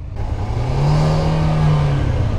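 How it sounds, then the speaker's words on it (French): Car engine droning and revving steadily under load as the driver struggles with a failing clutch, a loud close whir with a rising held tone and no speech. "Il arrête pas de caler. Allez, allez l'embrayage."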